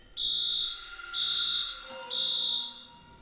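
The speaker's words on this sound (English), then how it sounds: "Then one of the fire alarms went off." An indoor fire alarm sounds in three loud, high-pitched electronic beeps, each about half a second long and evenly spaced, with quiet gaps between them.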